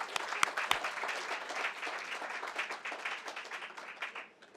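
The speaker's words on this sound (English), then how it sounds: "let's give them a round of applause." Applause from an audience at a community leadership award celebration, a steady mid-level wash of many hands clapping that begins with a few sharper claps and gently fades toward the end.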